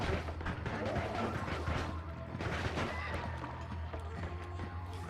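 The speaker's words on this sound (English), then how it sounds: "Mushroom enemies explode." Mushroom enemies burst in a rapid string of crackling explosions in the video game Noita, dense overlapping blasts layered over steady background game sound, with a voice talking over the action.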